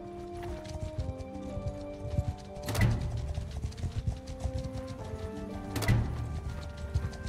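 Horses clip-clop steadily as riders travel across the map in Mount & Blade 2: The Old Realms, with hoofbeats continuous throughout and two louder surging swells of movement over a bed of game ambience and music.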